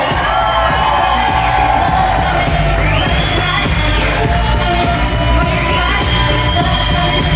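Wedding guests at a New Jersey reception at Stone House at Stirling Ridge cheer loudly and steadily for the newlyweds, with whoops, yells and high whistles rising over a dense crowd roar.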